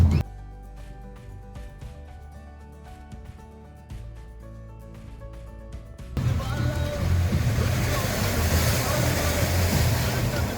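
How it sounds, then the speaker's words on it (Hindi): Water gushing under strong pressure and striking a car on a mountain road trip between Balakot and Gilgit. Quieter rumbling and clatter give way to a sudden, loud, steady roar of rushing, splashing water for the second half. "भाई पानी उछल से इतना प्रेशर से आ रहा है कि वो टकरा के गाड़ी से चल रहा है।"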